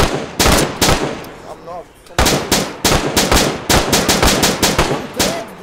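Rapid automatic gunfire in the survival video game DayZ, loud, close bursts of sharp repeated shots with short gaps, while a player's voice speaks briefly over it.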